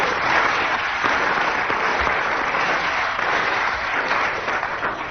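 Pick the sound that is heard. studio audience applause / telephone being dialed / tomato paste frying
studio audience applause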